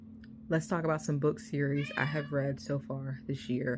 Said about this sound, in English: Sorry about my cat. She also wants to be in the video.